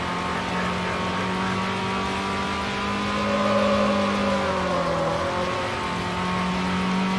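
A Vauxhall race car in Need for Speed: Hot Pursuit 2 accelerating in fifth gear, its steady engine drone rising slowly in pitch, loud and continuous, with a faint tire squeal near the end.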